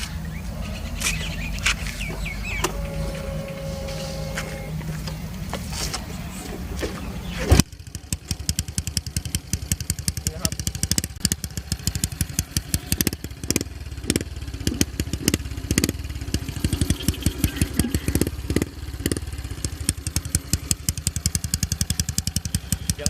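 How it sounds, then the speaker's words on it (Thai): A Honda Wave 110i motorcycle with a modified cam and exhaust idles with a loud, rapid exhaust burble after a sharp start, the pulsing putter steady and close for many seconds. "ก็มาชมเสียงท่อกันก่อนนะครับ"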